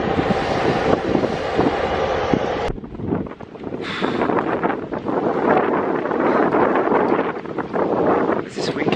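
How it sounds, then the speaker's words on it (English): Strong wind in the Australian outback buffets the microphone in loud, gusty rushes that briefly drop off and then surge back for the rest of the stretch. "Where's this wind coming from?"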